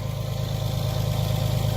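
A tractor engine idles steadily in an outdoor woodland food plot, a close, even low rumble with a regular throb and no voices.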